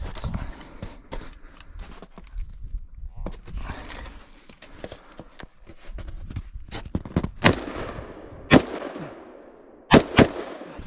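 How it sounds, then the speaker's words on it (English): Gunshots from a firearm during instinctive home defense shooting practice, a string of sharp cracks at irregular intervals, some in quick pairs, with the loudest reports near the end and faint ambient noise between them. "That was full instinctual shooting."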